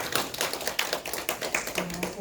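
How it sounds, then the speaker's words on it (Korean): A church audience applauds to welcome a speaker with a brief burst of dense, fairly close clapping. "박수로 환영해 주시기 바랍니다."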